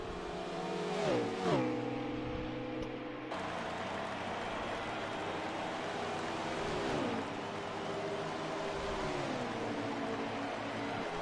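Race cars on a track roar past with engine pitch sweeping down as each passes, one loud close pass early, then further cars whining by more distantly over steady background noise.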